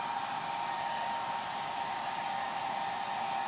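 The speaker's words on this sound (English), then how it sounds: "Let's hit a little bit more with the blow dryer." A blow dryer drones steadily at close range while drying a magnolia watercolor painting. The airy whir is continuous and even, with no voices.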